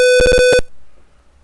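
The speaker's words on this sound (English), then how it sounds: "Yes, the buzzer works." A loud electronic buzzer driven by an 8051 microcontroller in simulation sounds in four quick pulses, then one more after a short gap, and falls silent.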